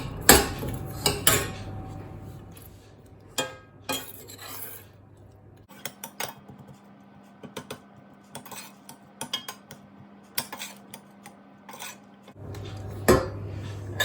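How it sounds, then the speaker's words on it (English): A spoon presses and scrapes raspberries warming over low heat in a pan with erythritol, giving irregular metallic clinks and taps against the pan over a low hum, close and moderately loud. "I'm pressing it down with the back of the spoon to mash the raspberries"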